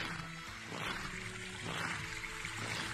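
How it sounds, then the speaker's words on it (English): Flowing water in the Gorilla Tag video game, a steady pouring, trickling wash that runs for the full three seconds at moderate level, with faint tonal game sounds over it. "I can hear the water, finally."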